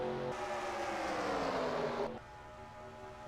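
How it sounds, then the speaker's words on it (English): Stock-car engines roar in a tight single-file line at Aaron's 499, a loud sustained drone that swells and then drops off sharply as the pack goes by. "So currently, first 3 cars single file."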